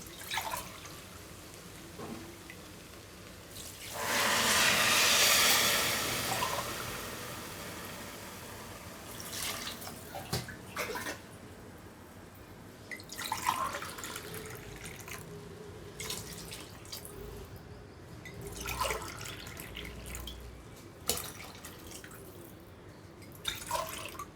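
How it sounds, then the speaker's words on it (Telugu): Water is poured into rice in a pot for vegetable khichdi, a strong gushing pour for a few seconds, then quieter trickles, drips and light clinks. "చూడండి, నేను వాటర్ యాడ్ చేస్తున్నా."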